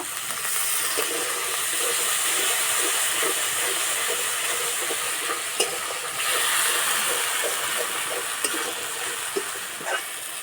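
Spices frying in oil for a cauliflower kofta curry hiss and sizzle steadily, with faint stirring clicks and scrapes throughout; the steady frying noise dominates, with no voices.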